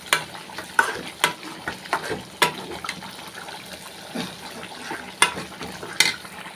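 Snake gourd sautéing in a pan makes a low background sizzle, broken by repeated sharp scrapes and taps of a spatula stirring at uneven intervals, close up.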